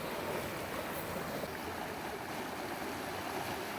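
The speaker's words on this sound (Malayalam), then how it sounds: "കലങ്ങി മറിയുന്ന ഡാമിൽ വെള്ളം നോക്കി." Churning, muddy dam water flows in a constant, fairly quiet rush during the monsoon, heard from a short distance with no talking.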